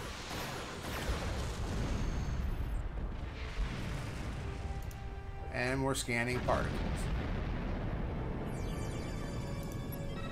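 Warp core explosions during a space battle in the game Star Trek Online, heavy booming blasts and rumbling under steady game effects, with someone talking over much of it.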